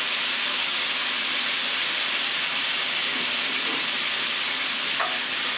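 Pieces of chicken for skillet-fried chicken sizzle in a hot pan of oil and lime juice, a loud, steady broadband hiss that runs unbroken from start to finish with no speech.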